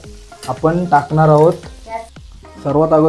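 Butter melting in a pan sizzles with a steady close hiss, the start of a butter garlic dish, while a voice talks over the frying.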